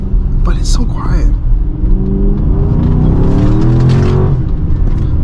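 A Dodge Charger R/T with a new exhaust and intake accelerates, its low rumble and intake whir rising in a steady pull from inside the car, with a brief voice early on.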